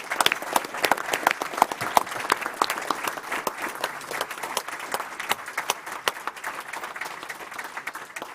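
An audience at a school board meeting applauds students with dense, steady clapping that lasts throughout, moderately loud and with no talking over it.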